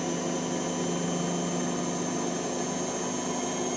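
A tumble dryer runs steadily during testing after repair, a continuous mechanical hum with a low rumble and faint tonal whine, moderately quiet and unchanging throughout, with no voices.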